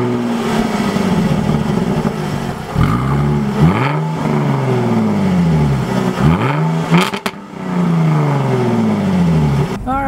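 A 2016 Jaguar F-Type V6 convertible with an automatic gearbox revs loudly up close, its engine pitch rising and falling through repeated gear-like sweeps as it pulls away.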